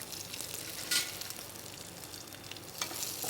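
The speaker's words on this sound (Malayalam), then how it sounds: "അപ്പോൾ നമുക്ക് ആദ്യം വെജിറ്റബിൾസൊക്കെ ഒന്ന് സ്റ്റർ ഫ്രൈ ചെയ്തെടുക്കാം" Onions stir-fry in hot sunflower oil for vegetable noodles, a steady close crackling sizzle with brief louder scrapes of stirring near the start and end; no one talks.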